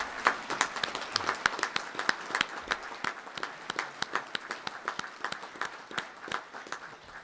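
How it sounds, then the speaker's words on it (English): A modest crowd at a Lifetime Service and Volunteers of the Year event applauding past award winners, a sparse, fairly quiet clapping with distinct individual claps in an uneven rhythm. "let us give you an applause"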